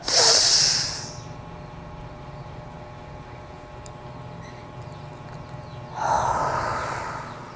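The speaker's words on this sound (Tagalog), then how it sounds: "So hingang malalim po." A slow, deep breath during a guided breathing exercise: a strong, close airy inhale, several seconds of quiet hold, then a long, softer exhale, with no talking.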